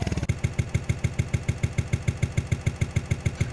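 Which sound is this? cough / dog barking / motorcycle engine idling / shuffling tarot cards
motorcycle engine idling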